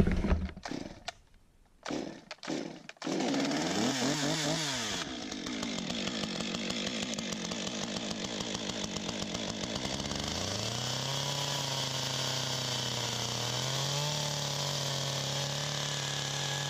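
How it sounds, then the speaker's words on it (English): Wood being hogged out of a roundwood timber mortise for a timber-framed shed, a continuous loud chainsaw-like power tool roar after a few brief starts, with the engine pitch shifting as it cuts. "so now we've just got to hog out all this wood"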